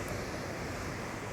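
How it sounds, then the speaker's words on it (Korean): Large ocean waves about five metres high roll off the rocky coast of Gozo, Malta, making a steady, dense wash of surf with wind noise, even and unbroken throughout. "저 앞에 아주 5m 정도의 엄청난 파도가"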